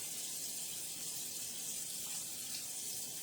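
Water runs steadily from a tap into a pot, a continuous bright splashing hiss, fairly faint and without pause.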